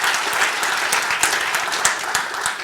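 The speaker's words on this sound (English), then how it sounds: "Round of applause for Gavin" Audience applause for a volunteer at a speech introduction, steady dense clapping from a crowd close by with a few sharper individual claps standing out.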